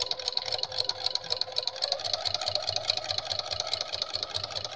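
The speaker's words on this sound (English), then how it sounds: "I'm sewing about a half an inch seam there" Electric sewing machine stitching a half-inch seam around fabric spring coasters, a steady continuous mechanical whir with a fine rapid needle rhythm, close and unbroken throughout.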